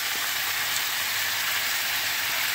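Washed rice goes into a hot pan for khichuri, giving a loud, even, steady sizzle at close range with no talking.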